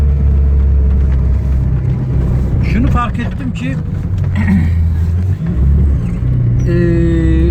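A car drives up a streamside road toward Şimşirli village, its steady low engine drone running beneath someone talking throughout.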